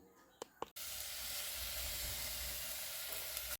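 A couple of light clicks, then a steady loud sizzle of diced onion and garlic frying in hot oil that runs unbroken until the end.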